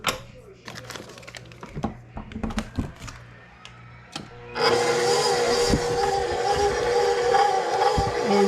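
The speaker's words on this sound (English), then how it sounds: "So let's get it onto the mixer." A stand mixer kneads pizza dough: after several seconds of clunks and knocks as the bowl is set in place, the motor starts with a steady, loud whirring drone that runs without pause to the end.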